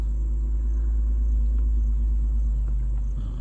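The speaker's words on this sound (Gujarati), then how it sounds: "ગાડી સ્ટાર્ટ થઈ ગઈ છે" A Tata Tiago hatchback's engine runs while a first-time driver pulls away in first gear, giving a loud, steady low rumble that holds for the whole stretch without talk.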